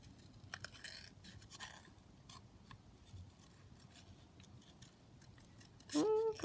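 Quiet snips of scissors cutting paper for a junk journal, a series of soft, quick cuts near the microphone with light rustling of paper between them.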